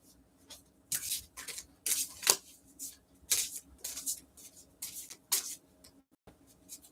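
Deck of oracle cards being shuffled by hand, close soft riffling bursts repeated in an uneven rhythm with brief pauses between.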